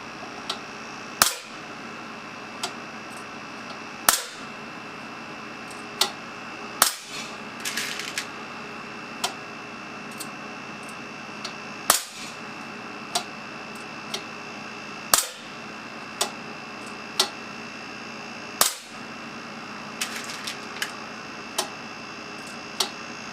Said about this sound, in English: get some pressure, and we'll fire a test shot or two. Or maybe a couple of test shots.